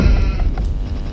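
Sheep bleating in the real-time strategy game Age of Empires II, a short, loud in-game animal call with background game sounds and no talk.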